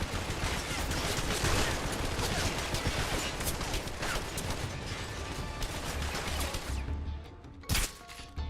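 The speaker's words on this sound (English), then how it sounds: "You're just shooting into nothing." Dense, continuous gunfire and rattling mechanical clatter in Metal Gear Solid Delta, many rapid shots running together, then a brief lull and a sharp burst near the end.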